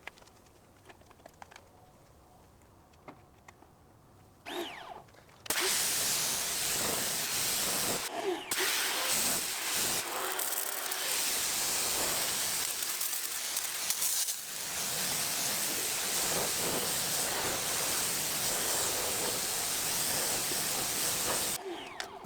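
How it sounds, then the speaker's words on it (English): A pressure washer sprays water to rinse dirty car wheels. After a quiet start, a loud, close hissing spray cuts in and runs steadily with brief dips and spattering. "we'll get the pressure washer out"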